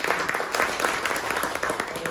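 Guests clapping at a Christmas dinner party among co-workers, a short burst of mixed hand claps at close range with faint talk underneath.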